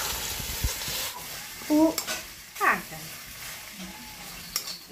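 Pork belly with ginger stirred in a sizzling pan, village-style, with a steady fry hiss and several clanks and scrapes of the utensil; a voice says a word briefly.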